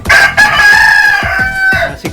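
Dekalb Brown chickens and a rooster are heard up close, the crow loud and drawn out over the clucking of the hens, with some scratchy farmyard noise beneath.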